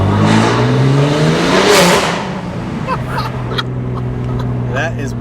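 BMW G87 M2 engine revving hard under load, a loud, rising roar that climbs in pitch, then drops back and settles into a lower drone, heard from inside the car with voices talking over it.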